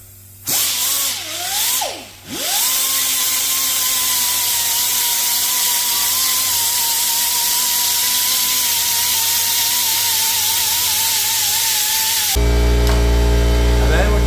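A power sander working aluminum on a 1978 Ford F100 build, a loud steady high-pitched whine that spins up after a brief start and stop, then runs continuously before the tone changes near the end.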